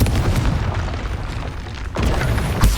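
Booming fire-spell blasts from the Hogwarts Legacy video game, with a dense rumbling burst that swells and then hits again in a couple of sharp loud impacts near the end, with no speech.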